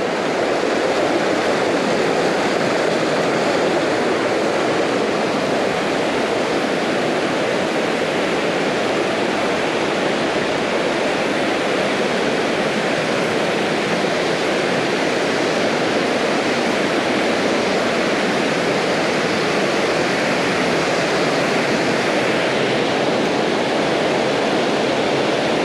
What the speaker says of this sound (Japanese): 透明滝